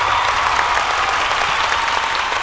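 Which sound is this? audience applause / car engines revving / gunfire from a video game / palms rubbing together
audience applause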